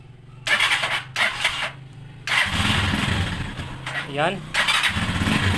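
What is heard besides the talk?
TMX 155 motorcycle engine started and running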